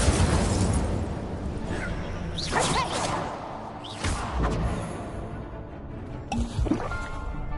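The Incendio fire spell is cast again and again in Hogwarts Legacy, giving a series of whooshing fiery bursts and pops over busy game sounds, with a voice heard between the casts.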